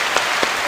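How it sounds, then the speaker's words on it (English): A brief stretch of steady, close applause fills a podcast studio in a round for a guest, a dense wash of clapping with a few slightly louder hand strikes popping out. "let's give a round of applause again for LisaLove"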